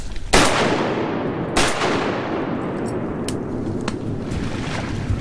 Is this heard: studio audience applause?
no